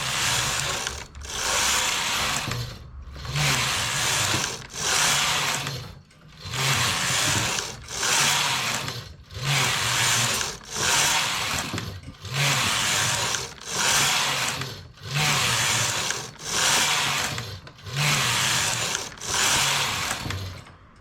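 A knitting machine carriage sweeps back and forth across rows of a rectangular vest, each pass a loud whirring, clattering rasp lasting about two seconds, separated by brief pauses in a steady rhythm, close and alone.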